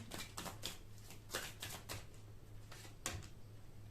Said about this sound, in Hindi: चार कार्ड्स लेंगे हम यहाँ से